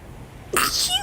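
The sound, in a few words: sneeze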